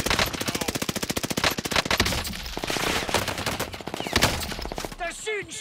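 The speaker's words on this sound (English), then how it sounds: "They're shooting straight at me." Automatic gunfire in Call of Duty: Modern Warfare, rapid machine-gun bursts in a fast regular rhythm, loud and close, mixed with scattered shots and a voice talking over the firefight.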